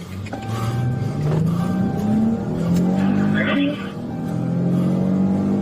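A car engine revs and pulls away with rising pitch, loud and close, followed by another surge of acceleration and a brief tire squeal.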